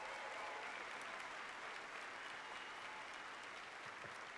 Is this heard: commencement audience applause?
yes